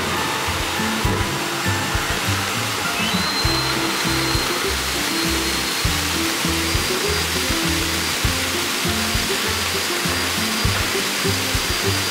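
A loud, steady pet hair blower dryer drying huskies roars continuously at close range with a dense whooshing drone and slight pulsing texture, and nobody speaks.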